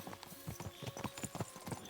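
A horse's hooves clip-clop at a steady walking rhythm in the video game Kingdom Come: Deliverance 2, with about ten clear, evenly spaced hoof falls close by.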